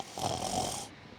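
A person gives a single snore, a brief rasping, breathy rumble lasting under a second, moderately close and alone before fading into quiet.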